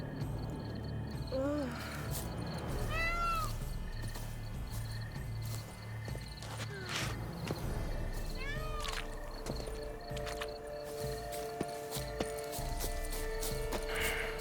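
In The Witcher 3: Wild Hunt, a horse whinnies a few times over soft clip-clopping hooves and scattered mechanical clicks, with quiet background noise throughout.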